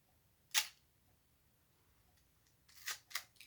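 A DSLR camera set up to mimic an old film camera fires its shutter release once, a crisp mechanical click, then after a pause gives a quick cluster of further clicks and a film-style advance sound, close and otherwise quiet.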